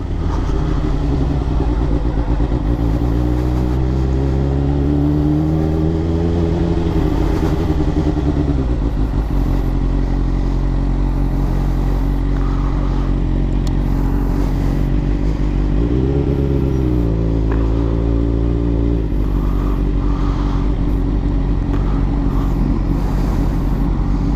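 A Suzuki GSX-R 600 sport motorcycle on a test ride, its engine droning steadily and loud throughout, with rising revs in two clear sweeps as it accelerates, under constant wind rush and no talking.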